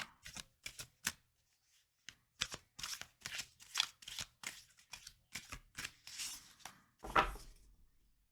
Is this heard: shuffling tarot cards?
yes